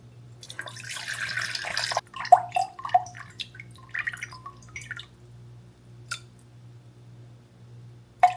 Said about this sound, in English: we're going to measure out 300 grams of water.